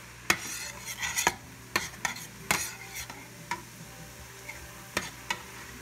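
Orange and yellow bell peppers and mushrooms sautéed without oil in a pan, with a utensil clacking and scraping the pan in irregular sharp hits over a low, steady background hum, close up and without talking.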